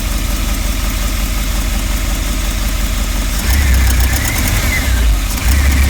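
A Rolls-Royce Silver Spirit engine being revived after sitting, idling loudly and close with a rough, throbbing rumble that grows heavier and more uneven about halfway through, with no speech over it.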